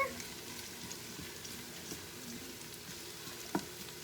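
Onions caramelizing in a pan, a faint, steady low sizzle with scattered soft pops and one brief clink, heard close but quiet, with no talking.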